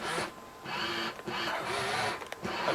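The head motor of an 18-inch remote control Dalek toy whirs in a small, close, high mechanical buzz, running in a few sustained stretches separated by brief pauses.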